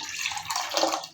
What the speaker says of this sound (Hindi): इस पैन में आप ऐड कर देंगे 2 कप पानी